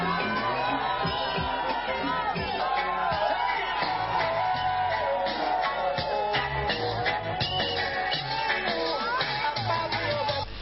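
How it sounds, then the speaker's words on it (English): A crowd of supporters erupts in continuous wild cheering, whooping and shouting as a governor arrives by aircraft, a dense, loud wall of sound that holds steady throughout, with possible music mixed in. "the faithful went into wild jubilation."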